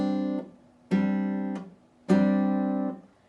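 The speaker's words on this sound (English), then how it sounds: "we're going to pluck those 3 notes together at the same time" An acoustic guitar rings out a three-note chord, plucked together three times at a slow, even pace, each strum sustaining clearly and close before fading.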